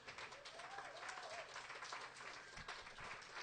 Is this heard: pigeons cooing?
no